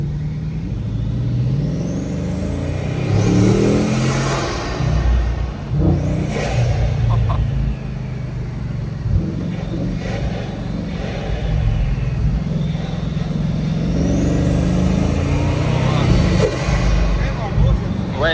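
A Bugatti Mistral engine roars and pulls hard under acceleration, its air intakes behind the cabin rushing and whooshing, with a loud, steady low rumble and rising surges as people talk inside the car.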